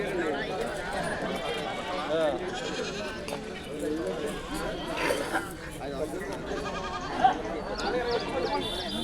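Goats bleat here and there at a busy livestock goat market, mixed into a steady crowd murmur. People talk throughout.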